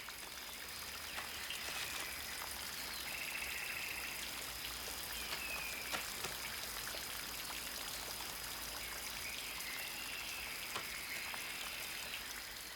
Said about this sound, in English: The rain puts an end to this excursion.